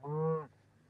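A cow gives a single short, clear moo of about half a second, close and fairly loud, then it falls to quiet field background with no talk.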